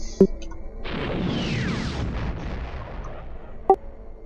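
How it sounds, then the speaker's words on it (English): A missile launches in the Star Wars Galaxies space combat game with a rising whooshing roar that swells and fades over a few seconds, bracketed by two short sharp clicks at start and end. "And now we fire a missile."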